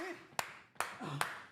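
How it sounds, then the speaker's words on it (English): Three sharp, evenly spaced hand claps ring out close and bright, with a voice speaking faintly between them. "Everybody clap your hands."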